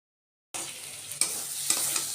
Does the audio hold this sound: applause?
no